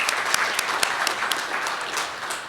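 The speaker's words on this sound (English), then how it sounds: "A round of applause." Audience applause at a golf tournament's 19th-hole reception: a room full of people clapping steadily, with dense claps and a few sharp individual hits standing out, near and fairly loud.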